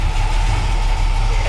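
A vehicle engine idles steadily and loudly up close right after a new throttle pump has been fitted, a continuous low rumble with no change in pace and no talking.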